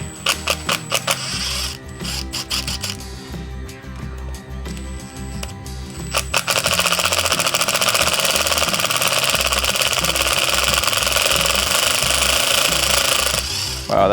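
A power tool loosening the motor mounting screws on a Radio Flyer Ultimate Go Kart, loud rattling hammer-like bursts that start and stop at first, then a long sustained harsh whirring run.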